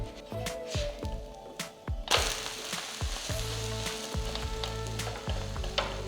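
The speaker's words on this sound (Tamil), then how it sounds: "இப்போ நம்ம தோசையை திருப்பி போட்டுடலாம்" A spicy egg dosa sizzles on a hot pan as a spatula scrapes beneath it and flips it, with a sharp crackling burst partway through and a steady fry that carries on afterward, close and clear.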